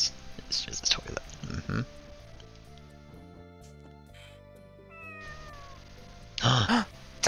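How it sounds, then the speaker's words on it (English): Cat meows ring out in a video game, a few short, clear calls in the middle, between game music and stretches of quiet talking at the start and end. "There's a cat there!"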